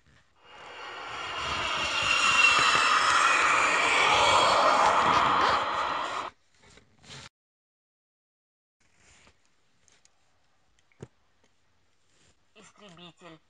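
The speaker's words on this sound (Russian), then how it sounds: "Самолет." An airplane's engine roars loud and steady for about five seconds, then cuts off, leaving near silence broken by a few brief, faint sounds.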